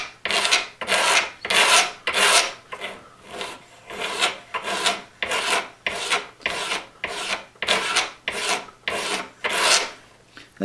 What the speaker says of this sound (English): I just use a utility razor blade for a lot of these things. And what we're going to do is just come in here and scrape it.